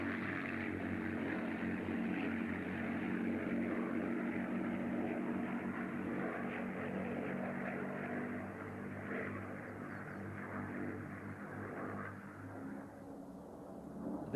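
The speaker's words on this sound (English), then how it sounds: "12 mighty cylinders and the registration VHBOB identify this aircraft as the Mustang owned by Bob Eastgate of Melbourne." North American P-51 Mustang with its 12-cylinder piston engine at an Australian air show: a steady, droning engine roar held throughout, slowly fading a little toward the end.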